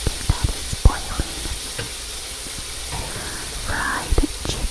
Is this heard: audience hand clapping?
no